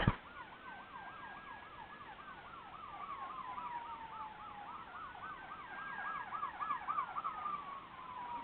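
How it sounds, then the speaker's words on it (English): Emergency sirens from fire trucks and ambulances passing a school, a fast wailing yelp layered over a slower rising and falling tone, distant and faint outside, with no talking. "fire trucks and ambulances are going by the school right now"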